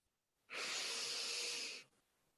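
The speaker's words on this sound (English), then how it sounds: "deep breath in" One deep inhaled breath, close and steady, a smooth airy rush of about a second and a half with silence before and after.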